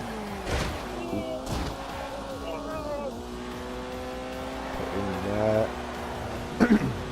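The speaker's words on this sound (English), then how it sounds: "Putting the Porsche through its paces, giving it a good bashing." A Porsche driven in The Grand Tour video game: a steady engine drone with gliding pitch sweeps as it revs and shifts, plus a few sharp bursts near the end.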